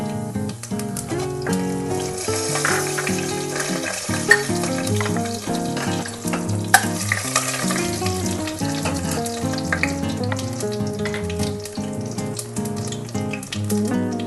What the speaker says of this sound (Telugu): కొద్దిగా జీలకర్ర వేస్తున్నాను నేను, ఎండుమిర్చి